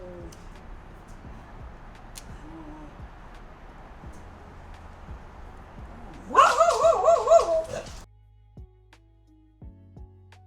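A dog barks in a short burst of several sharp, yappy barks partway through, loud and near, after a quiet stretch of faint room sounds and light clicks.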